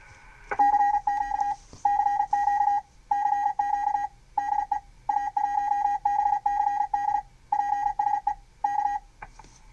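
Steady on-off beeping tone keyed in short and long bursts, like Morse code heard over a radio, with a faint hiss between characters.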